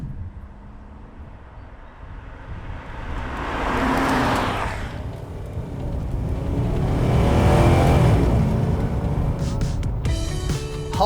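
A 1997 Holden VT Commodore SS V8 sedan drives along, its engine rumbling steadily with two swells of rising revs and passing road noise, close and fairly loud.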